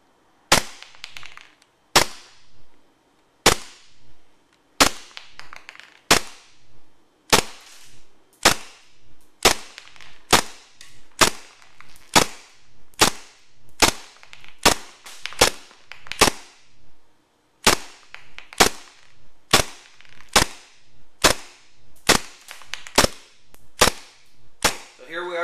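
A WE G17 Tactical airsoft pistol fires shot after shot through a chronograph, sharp loud pops in an uneven string, some spaced apart and others in quick bursts, with brief gaps between.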